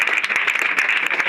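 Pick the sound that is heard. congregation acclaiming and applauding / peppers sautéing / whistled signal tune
congregation acclaiming and applauding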